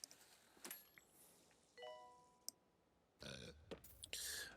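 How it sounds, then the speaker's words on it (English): A cartoonish burp sounds out in the hospital management video game Two Point Hospital, mixed with game clicks and chime-like effects, fairly quiet amid light ambient game sounds. "There's nothing like a burp."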